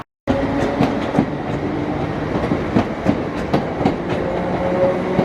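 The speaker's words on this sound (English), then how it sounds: "Train arriving for Lark Hall." A train arriving at Rutherglen station in Glasgow rolls in loudly nearby, wheels clattering over rail joints in an irregular rhythm with a rumbling low drone.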